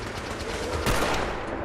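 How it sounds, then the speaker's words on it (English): Gunfire in the Fallout 4 video game during an ambush, a burst of shots landing around the middle of the stretch over steady game noise, fairly loud. "Normal pot shots from a distance."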